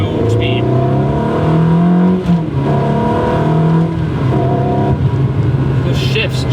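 Ferrari 360 with a Tubi exhaust accelerating hard, engine note climbing through several gears with abrupt shift breaks, loud and close from inside the cabin.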